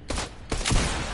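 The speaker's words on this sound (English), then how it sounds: "Alright, I'm getting shot at." A henchman's gunfire in a video game: two quick sharp shots close together followed by a denser burst, loud and near, with no talk.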